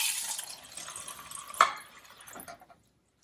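Kangen water at pH 9.5 poured from a tap onto a used tea bag, a steady splashing trickle that thins out and stops, followed by near silence.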